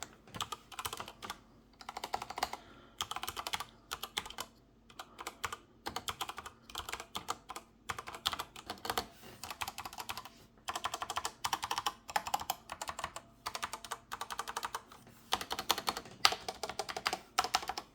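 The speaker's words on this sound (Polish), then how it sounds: "porównajmy tą klawiaturę z dźwiękiem klawiatury o brązowych switchach" Rapid clacking keystrokes on mechanical keyboards, a Dark Project DPO 87 compared with a brown-switch board, in close, continuous bursts with brief pauses and no talking.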